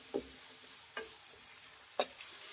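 Chopped onions and curry leaves frying in oil for a village-style jackfruit dish, a faint steady sizzle with three sharp scraping stirs of a spoon against the pan, no voices.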